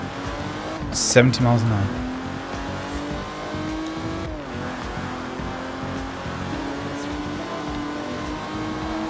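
An Aston Martin DB5, a regular road version rather than a Bond car, drives in the racing game Forza Horizon 4, its engine droning steadily with a brief sharp burst near the start, under a speaking voice.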